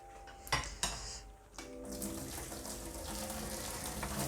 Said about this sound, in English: So we'll turn off the pasta and just give it a quick drain.